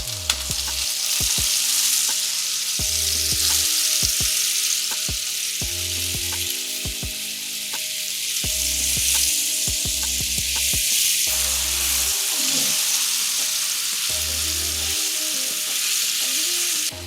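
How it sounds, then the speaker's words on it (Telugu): Pineapple slices grill in melted butter in a pan over a low flame, giving a steady close sizzle throughout, with occasional scrapes and clinks of a utensil in the pan. "ఇలా బటర్ వేసుకొని లో ఫ్లేమ్లో దీని ఇలా గ్రిల్ లాగా చేసుకోవాలి."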